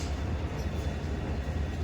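A continuous low rumble and rattle of a moving train leaving Bathinda, heard from inside a carriage, steady and fairly loud throughout.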